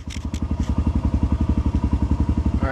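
Kawasaki KLX140L dirt bike engine idling after being fitted with new carburetor jets, a fast, even, close-up thumping putter that stays steady throughout.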